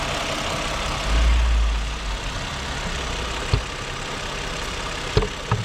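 A used Kia K7 sedan that has sat outdoors for a long time idles at a steady low rumble, with a brief swell in the first seconds and a couple of faint clicks later, no talking.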